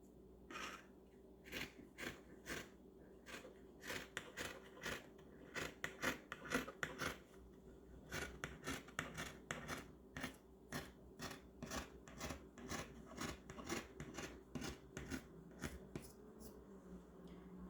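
Scissors cut through fabric for a short dress with a curved hem, a close, quiet run of crisp snipping strokes in uneven bursts with short pauses between them and no talking.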